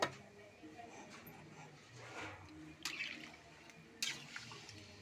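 Water from a mug is poured into a pot of chicken curry with potatoes, heard as faint, quiet sloshing with a couple of brief splashes near the end.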